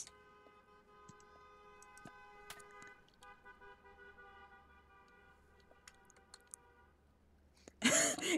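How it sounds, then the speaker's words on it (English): A car horn honks in the Cooking Simulator video game, a steady sustained tone held for several seconds, faint and alone, ending in a sudden loud burst of noise. "Excuse me, car. Why are you honking so much?"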